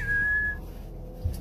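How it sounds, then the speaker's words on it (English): A person whistles a single sustained high note that trails off after about half a second, followed by a quiet room with a faint bump. "He doesn't really like it when you whistle."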